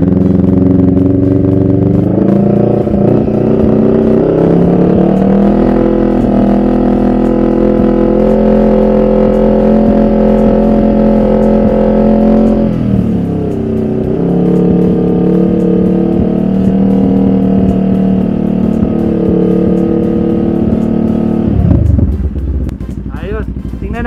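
CFMOTO CL-X700 motorcycle engine held at a steady rev of about 4,000 RPM, a loud continuous drone that dips briefly midway then settles before dropping off at the end; some talk sits underneath.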